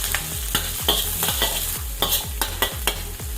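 Garlic frying in hot oil in a pan for a Filipino mung bean and pakbet dish, with a steady sizzle broken by regular, close clanks and scrapes of a spatula being stirred.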